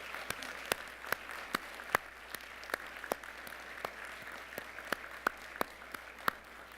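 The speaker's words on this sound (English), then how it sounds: "give them all a huge round of applause" Guests at an award ceremony give a sustained round of applause, a dense wash of clapping with a few sharper, louder claps standing out at regular intervals, moderately distant in a large room.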